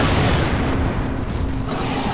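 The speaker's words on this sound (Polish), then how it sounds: "Eksplozja." A loud, sustained grenade explosion in the video game Tomb Raider Underworld roars with dense crackling noise that fills the whole stretch, with no voices.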